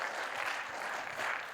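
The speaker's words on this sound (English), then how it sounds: "Let's give her a round of applause." An audience at a National African American Read-In Day event gives the women's basketball coach a short, fairly faint round of clapping.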